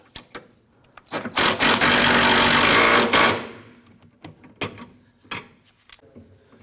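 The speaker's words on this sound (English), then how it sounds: "We're going to use our 14mm thin wrench on the inside and tighten up the nuts." A 14mm thin wrench tightens nuts on the rear sway bar link of a 2004-2008 Acura TL, giving a loud buzzing ratchet run of about two seconds between scattered metallic taps and clunks.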